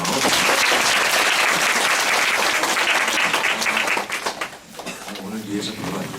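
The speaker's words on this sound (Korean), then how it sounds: "인사하고 박수 한번 쳐주세요." Students in a university psychology lecture hall give a loud, dense burst of applause after the lecturer introduces herself, tapering off into scattered claps and murmuring.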